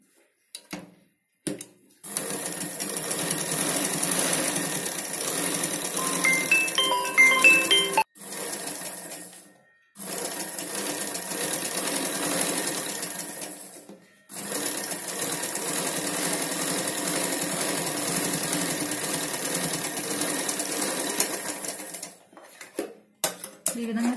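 Domestic sewing machine stitching a Punjabi dress pant, running in several long steady stretches broken by brief stops, with a light metallic rattle throughout, close by.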